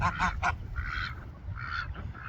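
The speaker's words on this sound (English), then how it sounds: "Mumbles, you have all your ducks?" Ducks honking and quacking in a short burst of several calls, close by in a deep-bedding poultry house, with a low rumbly background and no talking.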